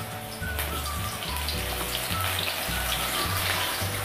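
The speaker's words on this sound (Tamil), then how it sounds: "இந்த மிக்ஸ் பண்ணி வச்சுருந்த மஷ்ரூமை ஃப்ரை பண்ணி எடுத்துக்கலாம்." Mushrooms sizzle and crackle in hot oil while frying for a chilli mushroom dish, a steady close bubbling hiss with no speech.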